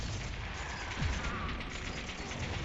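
Gunfire in the video game Trails to Azure, muffled distant shots and bursts under a steady ambient game background, fairly faint, no clear speech.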